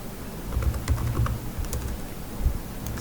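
Rapid keystrokes on a computer keyboard, quiet and close, with irregular bursts of clicks over a low background hum.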